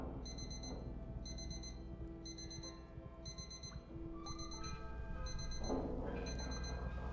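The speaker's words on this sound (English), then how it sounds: "But that beeping's not going to get annoying, is it?" Repeated electronic beeping in a horror video game, sharp tones sounding in regular bursts of two or three over a low droning background, with more layered game sounds building toward the end.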